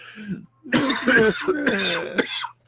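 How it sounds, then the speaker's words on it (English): A person coughs and clears their throat in a few harsh, close bursts, loud and raspy, with a brief pause between them. "you've been coughing a little bit"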